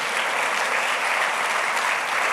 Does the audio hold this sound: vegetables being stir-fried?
no